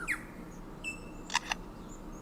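A lyrebird in a forest mimics a camera shutter, giving two sharp mechanical clicks in quick succession after a few bird whistles, fairly close and clear.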